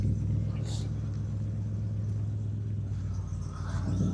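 Classic cars rolling in at a roadhouse breakfast meet, a steady low engine rumble close by with people chatting over it throughout.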